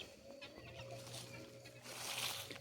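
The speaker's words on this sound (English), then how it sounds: "The birds are going to sleep." Chickens settling to roost at dusk, a steady low murmur of soft clucks and chatter from several birds nearby, with a faint rooster-like call and a brighter rustle of activity toward the end.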